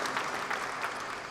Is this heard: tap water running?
no